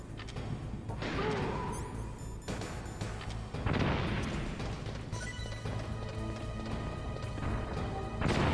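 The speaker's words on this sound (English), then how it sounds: "After the stun explodes" Stun grenade going off in a Metal Gear Solid game inside a blast furnace area, heavy booming crashes over a constant low industrial hum, followed by a long ringing wash of noise.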